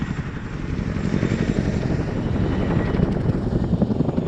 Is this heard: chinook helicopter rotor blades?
yes